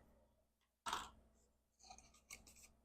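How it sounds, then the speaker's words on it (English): A quiet crisp snip of scissors through paper, followed by softer rustling and a couple of light snipping sounds, close by and alone. "Then we're going to just take our scissors"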